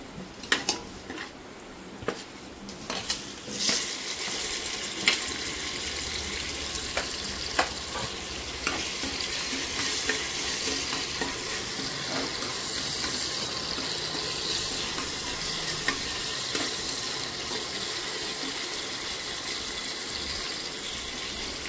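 Onion and tomatoes fry in ghee inside a home pressure cooker for chicken biryani, a loud steady sizzle with early clanks and scrapes of stirring, then a long, even hiss; no one speaks.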